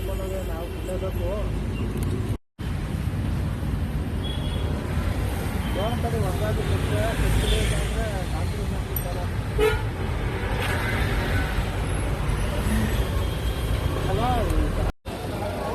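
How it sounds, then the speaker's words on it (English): Dense road traffic in Bangalore rumbles steadily as car horns toot repeatedly, some near and some farther off, in a busy street scene with a few faint voices. "Now we are standing in the traffic."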